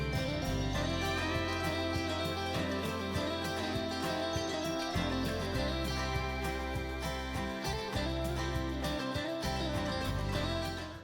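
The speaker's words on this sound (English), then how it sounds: "So obviously the main thing here is the electric guitar doing that sort of fill." A dense produced instrumental section of a song: an electric guitar fill over layered mandolin and banjo virtual instruments, with a full, continuous mix at steady loudness.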